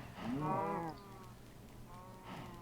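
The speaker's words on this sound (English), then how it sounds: "The cows grew up." Cows in the video game Minecraft give two drawn-out moos, the first longer and louder, the second shorter after a pause, with no talking over them.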